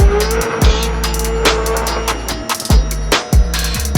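A race car at a track moves in slowly with a low engine rumble and sharp, repeated thumps and clatters, loud and close.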